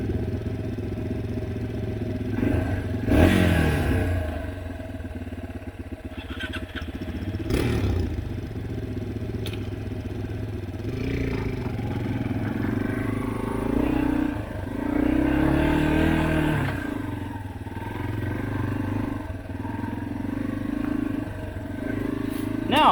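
On a trail, a dirt bike engine sputters and idles unevenly, then revs in several rising bursts under nearby talk.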